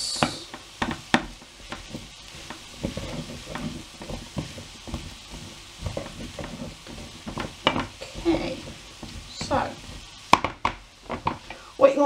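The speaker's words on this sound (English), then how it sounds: "And just mix that through so it's evenly spread around the other ingredients." Garlic being stirred through potato and onion tortilla ingredients in a bowl, giving a run of short scraping and clinking knocks at close range with no one talking.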